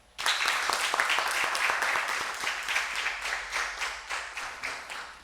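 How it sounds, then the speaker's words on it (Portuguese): Applause in a municipal chamber during a youth council session, bursting in suddenly and holding steady as many distinct hand claps ring out, then gradually thinning toward the end. "Peço uma salva de palmas."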